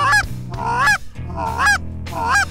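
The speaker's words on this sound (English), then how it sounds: "Shoot that goose, boy. Shoot that goose." Loud, close Canada goose honks during a Saskatchewan goose hunt: four harsh, repeated calls in a steady rhythm with no talking.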